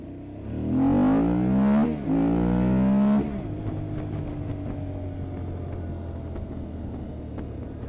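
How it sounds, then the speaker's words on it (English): A motorcycle engine, from a Ducati DesertX or Aprilia Tuareg 660, revs up twice in quick rising sweeps, then settles into a steady idling rumble with clattery ticks, close by and without any voices. "Tuareg's engine sound is fine. It makes noise."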